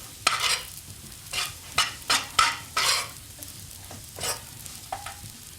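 Breadcrumb topping fries in a pan, stirred with repeated scraping strokes over a low sizzle, close and fairly loud, with no talk.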